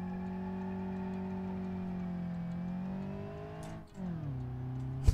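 An Ibishu Covet car engine in the BeamNG driving game, holding a steady high-revving drone, then its pitch dips sharply at a gear change and climbs again in the next gear, loud and close with no talk.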